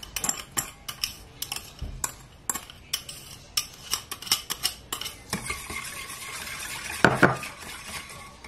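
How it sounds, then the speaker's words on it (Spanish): A utensil clinks and scrapes against a bowl as liquid gelatin is mixed into cream for strawberry panna cotta, a quick irregular series of light metallic taps and knocks that gives way to a softer continuous swishing stir. "Mezclamos muy bien."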